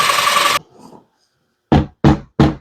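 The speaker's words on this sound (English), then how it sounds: "Once you have tapped them into the wall with your hammer" Three sharp, evenly spaced hammer taps drive drywall anchors into a wall, loud and close, after a brief burst of rushing noise and a quiet pause.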